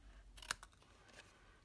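Small craft scissors cut through stamped patterned paper for a gift box, with one crisp, close snip followed by a couple of fainter clicks over a quiet room.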